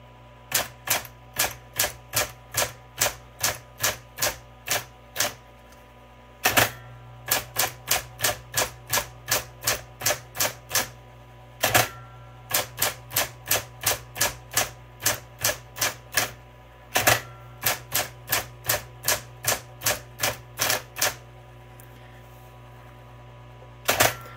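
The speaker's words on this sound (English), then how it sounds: "I'm going to go ahead and test all these keys" Keys struck one by one on a vintage blue Smith Corona Coronet Super 12 electronic typewriter, producing crisp, loud mechanical clacks in steady runs with short pauses between groups, close up and with no talking.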